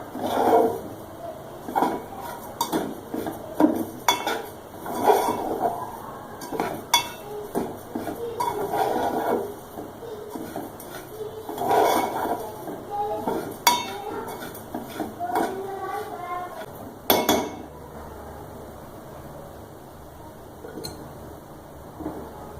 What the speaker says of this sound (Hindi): चीनी को मेल्ट होने तक पकाऊंगी मैं। और इसको कंटिन्यूसली जो है स्पून चलाते रहेंगे ताकि ये जले ना।